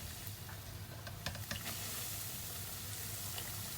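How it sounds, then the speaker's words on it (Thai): Quiet, steady sizzling of dough frying in a hot pan, with a few faint clicks and crackles partway through. "ตั้งกระทะให้ไฟร้อน ๆแล้วก็จะเอาลงทอด"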